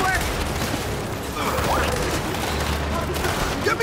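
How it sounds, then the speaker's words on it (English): Turret gunfire in Gears of War 5 keeps up a dense, steady stream of shots with a constant rumble underneath, as if pinned down in co-op combat, and voices shout over the barrage. "We're pinned down! We can't deal with those turrets!"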